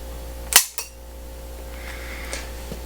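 A CZ75 pistol's double-action trigger is pulled with a Lyman trigger scale until the hammer falls, giving one sharp, loud metallic snap followed by a smaller click and a few faint taps in a quiet room.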